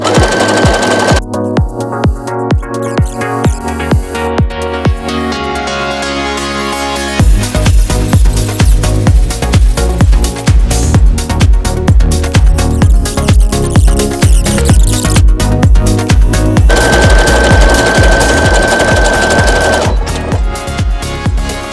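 A Brother SE625 sewing machine runs a decorative stitch while making a rope bowl, giving a loud, steady, rapid mechanical chatter that shifts in rhythm partway through and runs unbroken with no talking.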